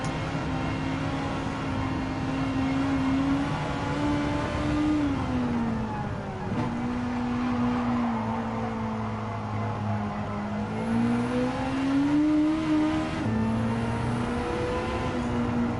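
Race cars from a Gran Turismo 7 video game race hold a steady, loud engine drone with a shifting pitch that dips and rises as they brake and accelerate, continuous for the whole stretch.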